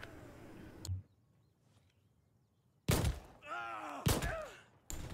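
Low caliber pistol shots in Insurgency Sandstorm, a few sharp loud reports spaced apart, the first followed by quiet and the later ones trailing off in ringing echoes.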